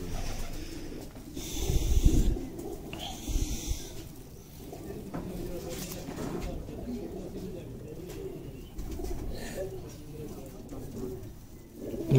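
Old breeder pigeons kept in a loft coo in low, rolling murmurs amid a busy, rustling background, with some muffled human voice and a few louder bumps.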